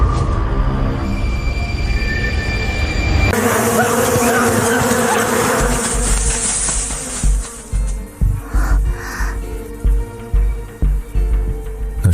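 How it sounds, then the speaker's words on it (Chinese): Bees buzz loudly and continuously nearby, a dense steady drone that turns into a pulsing, uneven hum toward the end, with no talk over it. "那是蜜蜂"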